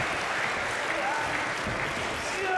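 Wrestling crowd cheering for Jake Atlas, a loud, sustained roar of voices and applause filling the arena, with a commentator talking over it.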